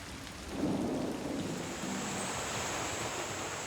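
A light rain shower falling over the Guyana jungle, a steady hiss of drops that swells and then holds at an even, moderately loud level.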